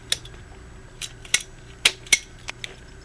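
A pipe being cut during a backflow preventer pipe build. The cutter makes a handful of sharp, close clicks and snips at irregular intervals over a quiet background.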